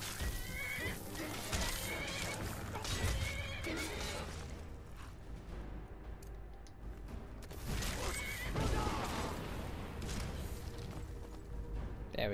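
A horse in Skyrim whinnies loudly amid clip-clopping hooves and rumbling game sounds, with another neigh later on.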